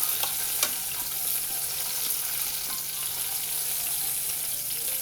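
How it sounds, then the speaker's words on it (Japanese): Eggplant searing in a frying pan for tomato arrabbiata pasta, giving a steady, close sizzle that holds evenly throughout with faint clicks and no talking. "表面も軽く2割ぐらい火入れするイメージですね。 ちょっと焼いていきます。"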